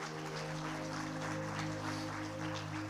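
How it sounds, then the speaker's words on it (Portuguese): A church congregation applauds during a sermon, a soft, continuous patter of clapping heard at a distance beneath a steady low hum from the room or sound system. "Você pode aplaudir o Senhor,"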